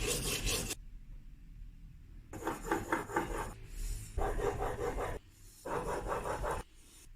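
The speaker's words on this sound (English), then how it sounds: "After that, I finished sharpening with a secondary 30 degrees bevel." An old Stanley 9 1/2 block plane blade is rubbed back and forth on a sharpening stone to hone its bevel, giving close rasping strokes in several separate bursts with short pauses between them.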